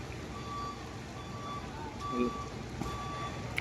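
A truck backing up at a port: regular, evenly spaced reversing beeps sound at moderate distance over a constant background rumble, with a brief low engine or horn tone partway through.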